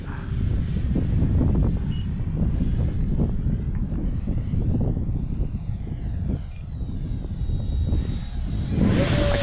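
A 3D-printed 70mm Mirage RC model jet flies overhead with a sustained high whine that rises and falls as it passes, its pitch climbing sharply at the end, with some wind buffeting on the microphone.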